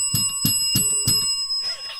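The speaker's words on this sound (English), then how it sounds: "Do you have your cussing bell on?" A small bell used as a cussing bell rings four times in a quick, bright, even rhythm, loud and close, followed by a brief rustle.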